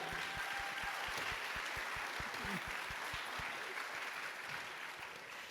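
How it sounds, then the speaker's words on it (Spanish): An audience at a church panel event applauds a guest, a broad wash of clapping with a few louder near claps early on, fading slightly toward the end. "Un fuerte aplauso, Gimel."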